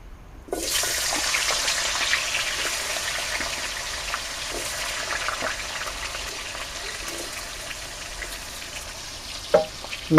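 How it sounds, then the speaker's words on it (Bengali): Sliced carrot sizzling in hot oil in a pan for a village-style Bengali shukto, a steady close hiss of frying that runs throughout with a few small clinks near the end. "গাজরটা ভেজে নিই"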